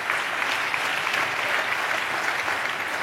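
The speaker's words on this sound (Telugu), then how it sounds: "చప్పట్లు కొడితే యేసయ్యకి స్తోత్రాలు చెప్తాం" A church congregation claps together in sustained, even applause that fills the room without a break and with no one talking over it.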